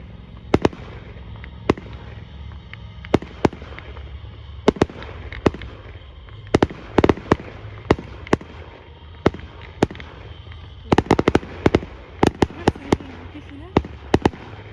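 Fireworks bang out across an end-of-holiday display, sharp loud cracks arriving singly and in quick clusters against a steady background hum, with voices talking now and then.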